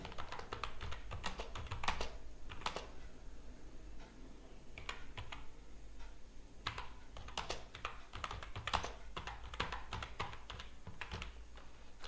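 Someone types a comment on a computer keyboard, with quick bursts of close key clicks, brief pauses between runs, quiet and without speech.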